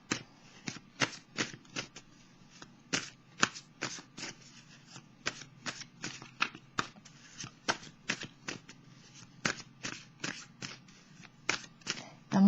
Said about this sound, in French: Je vais piger une carte, un message de l'univers pour terminer pour le signe du Gémeaux